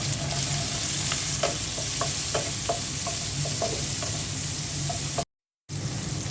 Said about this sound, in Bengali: এখন আমি মাছ ভাজা তেলের মধ্যে পেঁয়াজ দিয়ে দিচ্ছি।